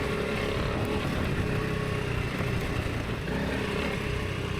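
A dual sport adventure motorcycle engine labors wide open in second gear up a steep hill, a dense, steady roar mixed with wind rush, loud and constant from start to finish with no talking.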